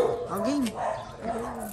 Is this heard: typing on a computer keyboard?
no